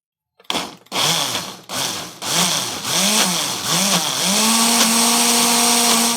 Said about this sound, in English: But if it's too thick, I'm not going to be able to blend it.